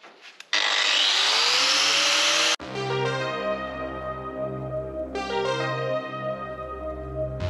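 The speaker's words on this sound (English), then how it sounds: "Sod it, grinder's coming out." An angle grinder cuts into rusty steel on a Mk5 Ford Escort chassis during repair work, a harsh, loud two-second burst of grinding, followed by a motor's ringing whine that hums on and then fades.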